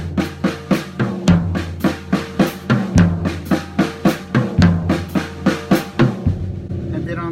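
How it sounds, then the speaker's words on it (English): A drum pattern in 3/4 time on a Gretsch Broadkaster kit, with steady cymbal and snare strokes, deep tom hits landing at regular intervals, and a ringing kick underneath, played loud and close without any talk. "And then I can throw some tom hits in on the 3/4. I came up with this pattern."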